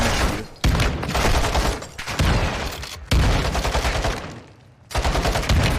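Gunfire in Call of Duty: Modern Warfare 2, loud sustained bursts of rapid automatic shots with short breaks between volleys.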